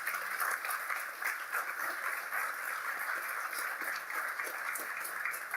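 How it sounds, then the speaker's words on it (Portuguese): Fairly faint but continuous applause from a gathered audience at a church conversation event, honoring a group of men, sustained evenly throughout with no voices standing out. "Uma salva de palmas para eles"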